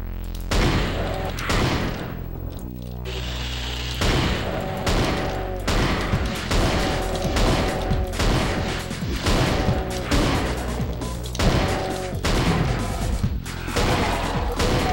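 Shotgun blasts in the video game NeoDoom fire over and over at a steady pace, roughly once a second, loud and punchy over a droning game soundtrack.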